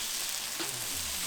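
Prosciutto and burgers sizzle on a Pit Boss five-burner griddle, a steady, loud, continuous hiss of frying with no break and no talk.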